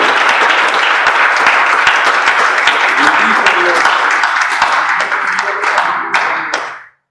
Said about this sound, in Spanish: Denle ofrenda de palmas a Dios en esta noche